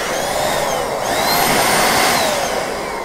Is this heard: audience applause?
no